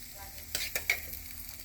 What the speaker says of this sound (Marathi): आता तीन पळ्या तेल टाकलं